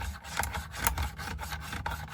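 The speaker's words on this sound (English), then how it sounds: "The bolt rides on the magazine." A 400 Legend rifle bolt cycles while riding on the magazine, making faint close rasping metallic rubs with a few quiet clicks at an irregular rhythm.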